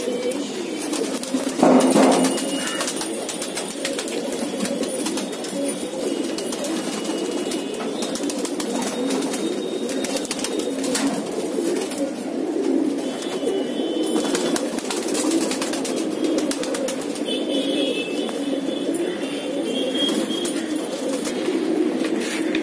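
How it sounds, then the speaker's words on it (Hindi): Soft, low pigeon coos repeat steadily over a constant background hum, with a brief flutter early on. "सब मिक्स कबूतर है।"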